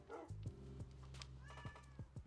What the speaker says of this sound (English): I hear you meowing.